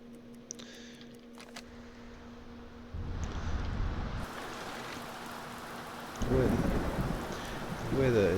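A lightning storm with heavy rain in a U-boat game: a continuous wash of rain that swells to a louder, rougher roar partway through, with a voice briefly heard over it.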